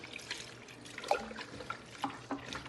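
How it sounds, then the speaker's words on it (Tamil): Water is poured into a cooking pot of goat intestines for a village-style curry: a faint, close trickle with a few small splashes and drips. "கொஞ்சம் தண்ணி வேகிற அளவுக்கு தண்ணி விட்டுக்கிடுவோம்."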